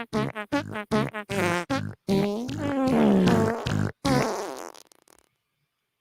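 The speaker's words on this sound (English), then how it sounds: "That was the fart song." A comic fart song of rhythmic, pulsing raspberry-like blasts, a quick burst of short notes giving way to longer sustained ones before trailing off into silence.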